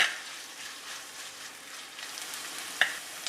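Onions and green chillies sautéing in oil for Kerala fish molee, a steady close hiss of frying with a couple of sharp spoon clinks against the pan, no voices.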